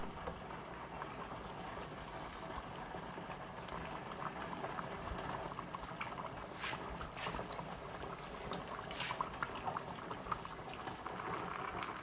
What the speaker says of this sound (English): just gently put the tofu in the oil and let the oil cook the tofu